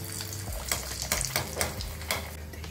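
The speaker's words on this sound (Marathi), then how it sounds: "मध्यम गॅसवरती आपण हे तळतोय" Bharda vade, coarse-ground lentil fritters, frying in hot oil over a medium flame, giving a steady close sizzle and bubbling with a few sharper crackles and clinks of a utensil, with no voices.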